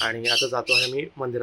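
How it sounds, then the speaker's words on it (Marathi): Birds squawk loudly behind someone speaking Marathi outdoors on the way to a temple, their harsh calls blending with and overlapping her voice throughout. "माझ्या बॅकग्राऊंडला खूप पक्ष्यांचा आवाज येत असतो."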